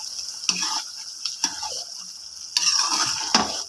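Beef karahi meat and masala stir-fried in oil in a pan, a steady sizzle with intermittent scraping and clinking of the spoon against the metal, close and alone.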